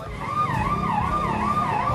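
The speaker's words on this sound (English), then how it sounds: "That is the emergency service ambulance." An emergency ambulance moped on a Bangkok street sounds its siren, a loud, close wail rising and falling steadily over traffic noise.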